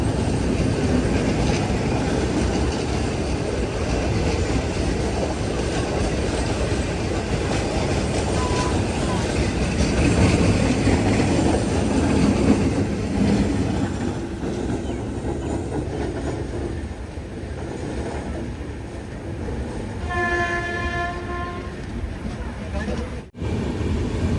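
Brindavan Express running on the tracks out of Chennai near Basin Bridge Junction, a steady loud rumble of wheels and carriage noise throughout, with a brief tonal squeal or horn-like ringing near the end.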